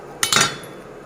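A kitchen knife cutting moringa drumstick pods in two for a Kerala stir-fry, heard as a sharp close thunk followed by a quick second chop against a hard surface, then quiet.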